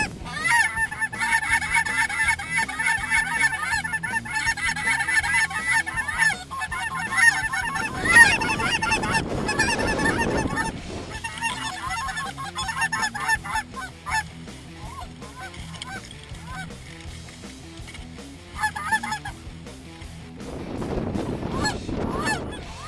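A flock of cackling geese honks continuously, with many overlapping calls at close to middle distance and brief rushing noise in between.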